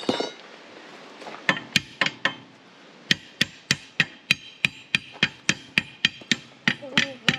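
Hammer blows ring out while a punctured tire is repaired, about fifteen sharp metallic strikes in a steady rhythm that begin irregularly and then settle into even spacing, close and loud against quiet background noise.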